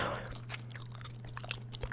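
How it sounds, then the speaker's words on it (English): Close, moist chewing of cotton candy bubblegum, a string of small wet clicks and smacks repeating irregularly over a low constant hum, quiet and intimate. "as we chew cotton candy bubblegum"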